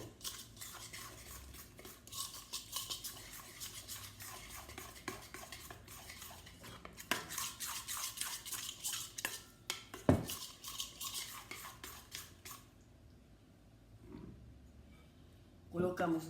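Flour being stirred into a cassava and cheese mixture in a pan, with steady scraping and clinking of a utensil against the pan throughout and a few louder knocks, under background voices.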